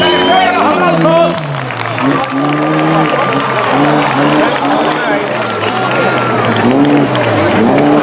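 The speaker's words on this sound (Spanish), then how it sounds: "Gracias a todos en la parte alta, que se oigan los aplausos." Spectators at a curve of the 2016 Rally Maspalomas classic regularity event applaud in a steady wash of clapping and crowd noise, with a voice talking over it throughout.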